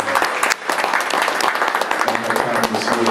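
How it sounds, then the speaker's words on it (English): Sustained applause fills a community action board meeting room, a dense burst of many hands clapping close and loud for about three seconds. "let's just a round of applause"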